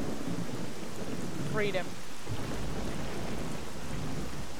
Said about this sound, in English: Also, it's rainy as it used to be.